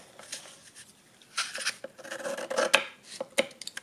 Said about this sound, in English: now you're going to take your scissors here